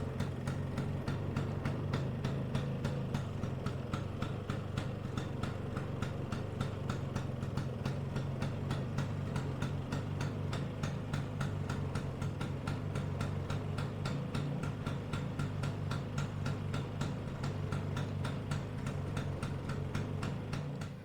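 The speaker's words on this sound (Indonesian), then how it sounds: "Untuk mesinnya itu lur enak banget ya, dia sekali engkol langsung jos nyala, dan suaranya juga adem banget" A 1985 Vespa Exclusive 150 scooter engine idles with a soft, even, rapid ticking putter, steady and unbroken throughout, fairly quiet and with no talk.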